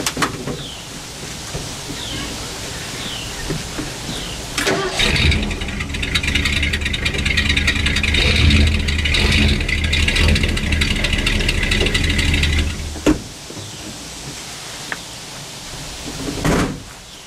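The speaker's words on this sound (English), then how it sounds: "Let's back the truck up." A tow truck engine starts with a sharp burst, then runs loud and steady with a mid-range drone while backing up for several seconds before cutting off, with a few door clunks around it.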